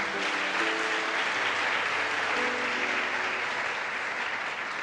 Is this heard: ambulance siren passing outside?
no